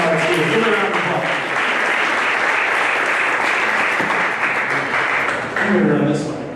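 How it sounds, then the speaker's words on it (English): Audience applauds for Dr. Danny Trimble, the new school superintendent, at a live show in a lounge: dense, steady clapping that fills the room for several seconds, with a few voices mixed in. "Give her a round of applause."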